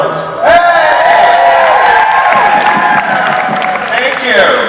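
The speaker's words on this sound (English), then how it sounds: "Another round of applause for these guys." Loud applause and whooping cheers from a convention crowd surge up and hold steady, with shouts and voices mixed into the clapping throughout.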